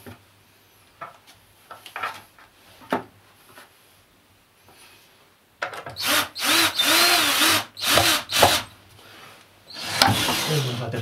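A power drill drives screws into wooden floorboards in an isolated mountain cabin under restoration, with short bursts early on, then louder, sustained whirring runs close by.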